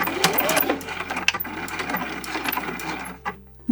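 A sewing machine stitches straight down across the corner of a small fabric pouch, a close steady whirring run with a few clicks and a soft knock near the end.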